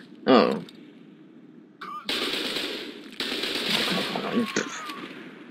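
Gunfire in the game F.E.A.R. 2, with a loud sharp shot followed by dense, sustained bursts of automatic fire, heard close and mixed with a brief vocal sound.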